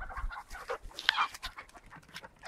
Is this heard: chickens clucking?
yes